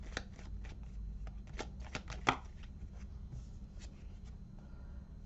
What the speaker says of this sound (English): I'm just going to take one fortune cookie card here for Cancer.